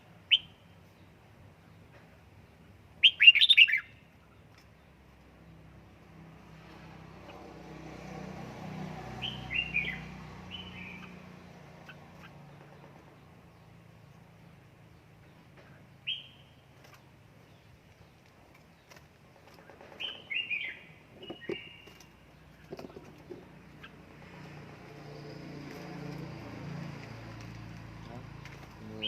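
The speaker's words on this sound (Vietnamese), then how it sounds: "Đó, người nghe chim kêu nha." A red-whiskered bulbul (chào mào) kept at home in Gia Lai gives a few short, bright chirps and calls at intervals amid quiet room noise and some low murmuring in the background.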